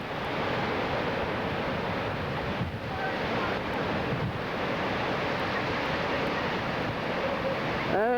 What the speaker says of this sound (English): And it's windy right now and very cold.